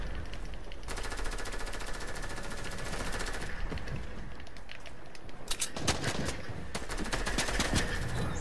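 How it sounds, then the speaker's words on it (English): Rapid automatic gunfire in Fortnite battle royale, bursts of loud rattling shots aimed at the player, dense and continuous over steady game background noise. "somebody's trying to shoot me down"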